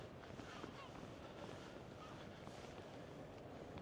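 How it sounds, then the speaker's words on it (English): Blustery coastal wind at Trevose Head, Cornwall, rushes and buffets the microphone in a constant low roar, with a faint wash like surf underneath; the sound is fairly quiet overall. "It is quite blustery here"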